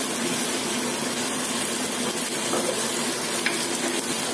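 Osso buco meat dusted with flour being stirred in a pan, a steady close sizzle of frying with faint scraping of the stirring throughout, no talk.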